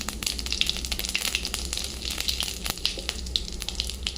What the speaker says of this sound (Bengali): দেবো জিরে ফোড়ন, শুকনো লঙ্কা ফোড়ন, আর দেবো একটু হিং ফোড়ন।